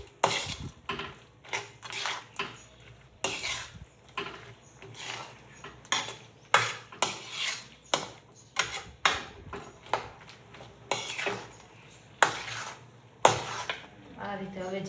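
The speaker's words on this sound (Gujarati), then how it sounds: "આપણે આને થોડું હલાવી નાખીશું." A spoon scrapes and clanks against a pan as peanuts are stirred for chikki with the gas switched off, sharp metallic knocks repeating in an uneven rhythm, close and distinct.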